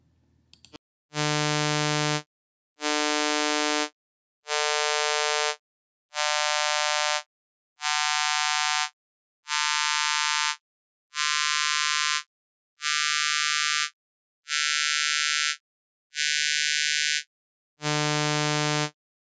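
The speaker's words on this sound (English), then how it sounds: "harmonic complex tones of 150 Hertz fundamental frequency" A series of eleven buzzy harmonic complex tones with a 150 Hz fundamental, each about a second long with short gaps; the timbre thins and brightens across the sequence while the pitch stays the same.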